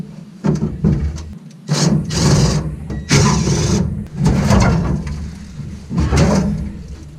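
The fuel tank is wrestled out of a 1934 Plymouth rat rod in a series of loud, close scraping, rubbing and clunking bursts, with short pauses between pulls.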